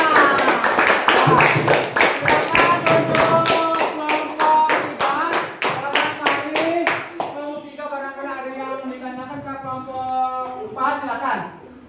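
Students in a classroom clap a fast, even rhythmic pattern for several seconds, sharp and close. The clapping then stops and children chant or sing together, with a few claps returning near the end.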